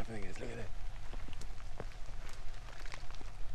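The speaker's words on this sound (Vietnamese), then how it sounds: "Ở đây chỉ có mây và mưa, không có gì ngoài mưa ở đây." Steady rain falls in an Amazon cloud forest, a dense close patter of drops on leaves and surfaces throughout, with a voice speaking briefly at the start.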